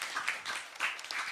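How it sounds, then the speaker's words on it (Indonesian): Applause for Pak Hakim at an Eid al-Fitr religious gathering, a brief burst of hand clapping with uneven, rippling claps that swell and dip over a short moment. "Tepuk tangan untuk Pak Hakim"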